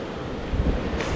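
Ocean waves wash onto a beach in a continuous broadband rush, with a swell of surf and some wind buffeting the microphone.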